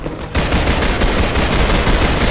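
Rapid, loud pistol gunshots from a Roblox zombie game fire in a dense burst, sharp cracks crowding one after another with no pause.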